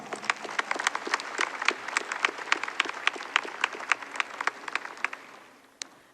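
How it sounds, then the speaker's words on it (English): Applause from a high school graduation audience, a steady patter of many hands clapping at moderate distance that thins out and fades near the end, with no talk over it. "Grads, please give your family, friends, and teachers a round of applause."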